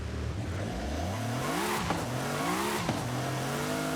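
A high-horsepower car roars in Forza Horizon 5, the engine revving and climbing through gears with rising, wavering pitch, loud and close, with brief shifts and no talking.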